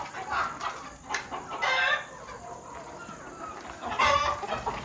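Free-range country chickens settling to roost in the evening cluck in short, repeated bursts at moderate distance, with a couple of louder calls standing out over a steady outdoor background.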